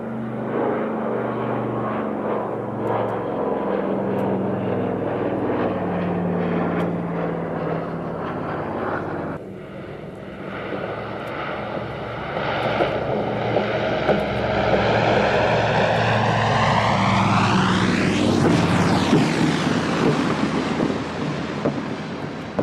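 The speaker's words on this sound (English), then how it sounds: "the sound of these four engines just stunning" A four-engine propeller aircraft flies past with a loud, sustained drone of engines and propellers. Its pitch sweeps sharply as it closes in and passes, with wind buffeting the microphone.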